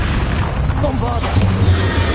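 A blasting spell goes off in Hogwarts Legacy as a short, loud boom with a rumbling low tail, set against a busy game mix of music and effects.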